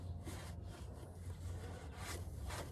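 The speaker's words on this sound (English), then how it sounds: "just do your best to get a shop rag in there and try to clean it out the best you can" A shop rag rubs and scrubs inside a gear housing, giving faint, close, rhythmic wiping strokes with no talk.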